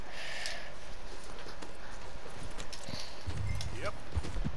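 Horse hooves clip-clopping in the video game Red Dead Redemption 2, a steady rhythmic patter at moderate loudness beneath game ambience, with a low rumble and a brief tonal whinny-like sweep near the end.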